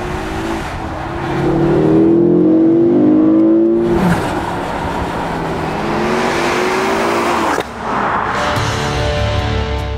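A Ford Focus RS500 with an enlarged exhaust system growls loudly as it accelerates through several rising gears, with sharp pops at the shifts and a sustained engine roar throughout.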